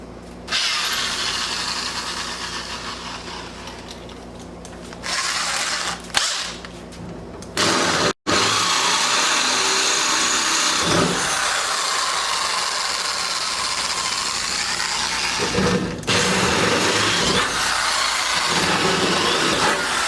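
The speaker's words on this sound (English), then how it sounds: "That hole needs to be drilled out just a little bigger." Power drill enlarging a hole in a 1979 Chevy G20 custom van, a steady loud whirring grind running nearly throughout, broken by a few brief pauses and stops, with no talk.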